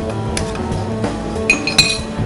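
A fork clinks and scrapes against a dish while breaking up turrón, with a few sharp metallic taps over a steady low background hum, close by.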